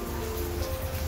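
Steady rain during Cyclone Yaas, a dense unbroken hiss of falling water, close and even throughout, with no voices.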